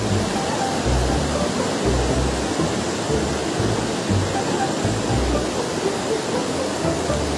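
The Sanxia River in Taiwan, its current flowing as a steady, loud broadband rush of water, with a low rumble that pulses underneath and a constant churning hiss, with no talk.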